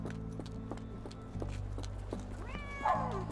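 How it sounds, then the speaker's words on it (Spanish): In the Sherlock Holmes: The Awakened video game, a cat gives a single clear meow near the end, over a low, steady music drone and faint rhythmic taps. "Otro gato."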